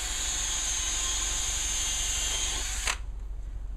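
A power drill bores drainage holes through a rubber-soled boot with a fabric lining, a loud steady whine running close for nearly three seconds before stopping abruptly, leaving a low hum.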